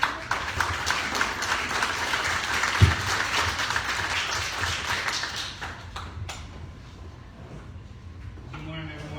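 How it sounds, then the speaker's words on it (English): Audience applause greets an accounting-firm speaker at a morning gathering, a dense, steady clapping wash lasting most of the moment before thinning out toward the end, with a sharp single tap partway through. "Let's give Blake a round of applause."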